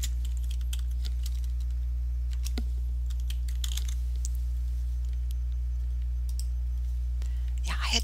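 A file name typed on a computer keyboard, scattered quick key taps in short bursts over a steady low electrical hum, close and fairly faint, with a voice speaking at times.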